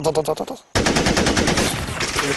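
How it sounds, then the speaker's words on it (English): Sustained automatic gunfire from a deadly machine gun shooting at Tibetans, firing non-stop in a rapid, loud, continuous burst that briefly pauses and then resumes unbroken. "There was one really deadly gun. It just fired non-stop like this."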